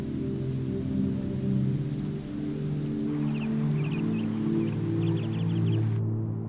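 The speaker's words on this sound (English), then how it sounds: "The vagaries of highland climate often unleash several showers in a single day." A rain shower in the Shangri-La highlands during the rainy season falls as a steady hiss with a low, continuous background rumble, with a faint bird's chirps in the latter half.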